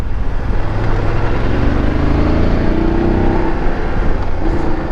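A motorcycle rides along the road on a short trip to refuel after a month off, its engine droning steadily and close with a continuous low rumble and shifting tones throughout, with no talking.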